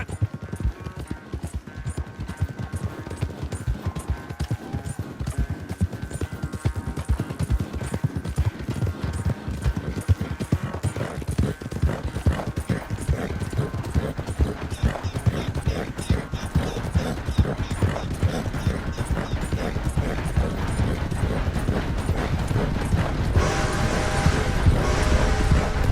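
Horse hooves pound rhythmically in a Red Dead Redemption 2 riding race, a steady galloping clip-clop under game music and ambient sound, growing slightly louder toward the end.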